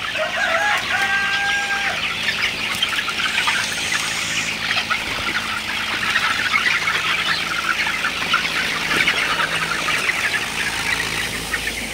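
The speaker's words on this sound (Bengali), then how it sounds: "মাশাআল্লাহ মুরগিগুলা খুবই ভালো আছে, সুস্থ আছে।" Sonali super hybrid chickens kept as a flock on a farm. Dense, continuous clucking and chatter from many birds, with occasional crowing and a trickle of water, loud and close, with no speech.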